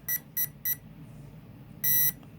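Four high electronic beeps from an RC car's electronic speed controller, an ECX 1:10 Torment brushed, on a 3S battery: three short ones in quick succession, a pause, then a longer confirming tone, clear and close.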